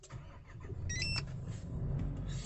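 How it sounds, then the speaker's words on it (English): A Nissan Navara fitted with a Starline immobiliser cranks and starts. A low, steady engine rumble continues throughout, with a brief electronic chime early on. "cycle of key off, foot on the clutch and key on and start"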